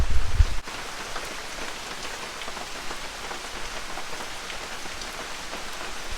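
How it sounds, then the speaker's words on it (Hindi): Rain falls steadily outdoors in a dense, even hiss of drops on surfaces, continuous throughout after a brief louder thump at the very start, with no voices. "हर रोज़ बारिश लगती है"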